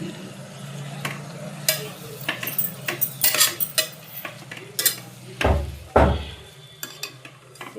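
Greens fry in oil in a pan with a soft background sizzle, punctuated by sharp scrapes and knocks of a utensil stirring against the pan, close and irregular.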